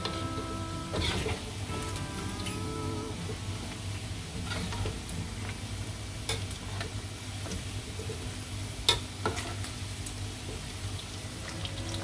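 Crispy pork deep-frying in hot oil gives a steady, low sizzling hiss broken by scattered small pops and crackles throughout. The sound is close but fairly quiet, with no talking.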